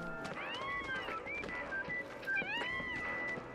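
Cat meowing in the video game Final Fantasy 7 Remake, a few drawn-out rising and falling mews set against busy game ambience and music, with a brief clopping sound mixed in.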